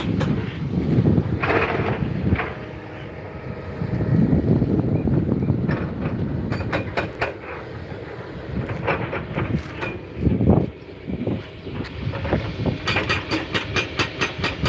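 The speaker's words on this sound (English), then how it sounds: "Oh, it's getting like windy now." Wind gusting around a moving truck on a mountain road, a steady roaring rush that swells and drops, with buffeting bursts and rattling clicks over a constant low engine drone.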